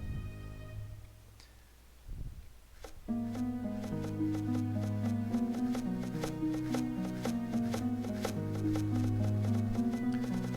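Citizens chop down trees in the video game Towns, a rapid stream of small, regular chopping taps running steadily over a tonal game music bed.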